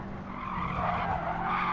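Tires skid with a sustained, fairly loud screech as a race car oversteers during a Gran Turismo 7 Clubman championship race, the engine drone running steadily underneath throughout.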